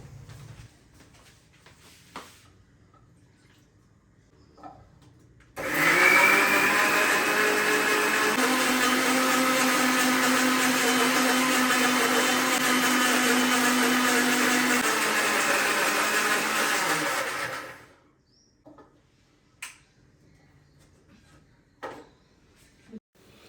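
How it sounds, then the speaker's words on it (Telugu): A kitchen mixer grinder grinds seeds, cumin, curry leaves and peanuts for coconut chutney, with a loud, steady whirring roar lasting about twelve seconds. It starts and stops abruptly, and the room is quiet before and after. "ఇవన్నీ మిక్సీ పట్టుకుందాము"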